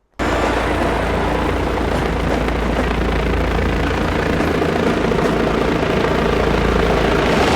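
A loud, steady helicopter drone begins abruptly and continues, thick and rumbling, with no talking.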